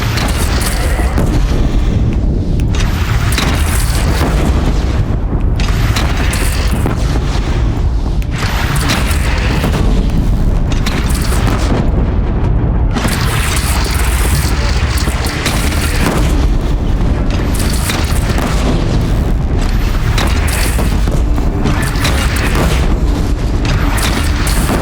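Heavy booms from cannon fire in the video game Horizon Zero Dawn, dense and continuous, with repeated blasts and rumbling impacts layered over constant battle noise, loud and close throughout.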